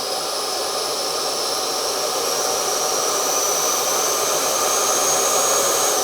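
RC Arrows Marlin 64mm EDF sport jet running at half throttle, a loud, steady whooshing ducted-fan roar with a high whine that holds without a break throughout.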